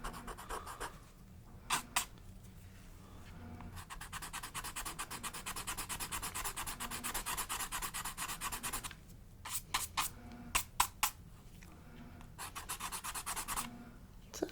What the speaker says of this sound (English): let's go with the Perfection Eraser